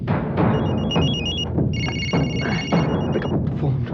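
A telephone rings in repeated electronic trill bursts, loud and close, over dense background noise and murmur.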